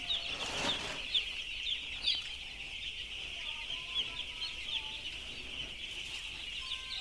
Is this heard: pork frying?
no